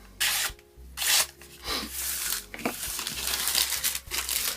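A sharp carbon steel Opinel blade slices through thin phone book paper, giving several close, loud bursts of crisp tearing and rasping crinkle separated by short pauses.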